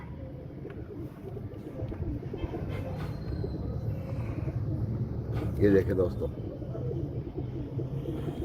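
Pigeons coo softly in a loft amid a low background rumble, their murmuring calls partly buried under someone talking to the camera.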